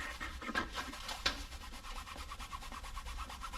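A rag rubs steadily over an old car door panel, wiping it down with lacquer thinner to remove grease, a soft continuous scrubbing close by with a couple of faint clicks.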